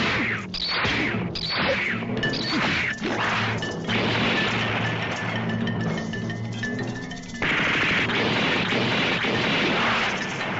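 Loud, dense machine gun fire with crashing impacts and explosive bursts from a Japanese Spider-Man TV show, a continuous barrage of rapid shots layered over a busy action soundtrack.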